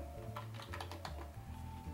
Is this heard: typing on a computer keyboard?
yes